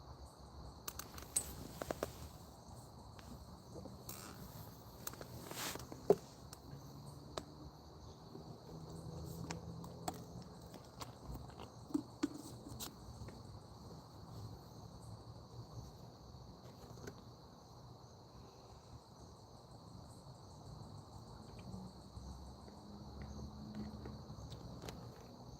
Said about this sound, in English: can you hear the bugs? The crickets and stuff?